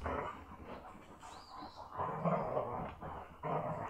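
Dogs growling and grumbling steadily at close range, with low rumbles and brief whimper-like rises, outdoors beside a portable off-grid washing machine.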